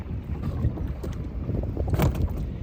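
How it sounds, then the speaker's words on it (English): Strong wind buffets the microphone in a continuous low roar, with gusts swelling louder near the end; no voices. "See, the wind's quite strong."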